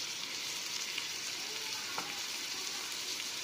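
Fish fillets fry in a pan with chili powder added, giving a steady, loud, dense sizzle that holds evenly throughout with no talking.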